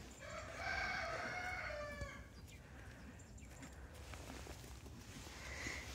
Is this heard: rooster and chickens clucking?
yes